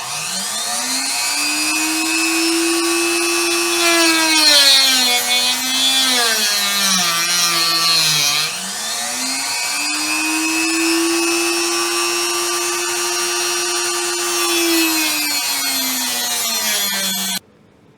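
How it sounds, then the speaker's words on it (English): A holder-mounted rotary tool spins an abrasive cutting wheel during a banjo build, producing a loud, close, continuous high-pitched whine that dips and rises as the wheel bites into the metal, with no talking. "using my rotary tool that I have mounted in this holder I've made. I cut it off with this. This is just an abrasive wheel."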